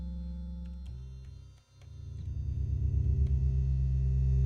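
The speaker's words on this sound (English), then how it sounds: "So that's the bass oscillator right now," An unfiltered synthesizer bass oscillator plays pure, humming low tones that step to new pitches, then pulse in a steady rhythm. It is fairly loud and heard alone, with no talking.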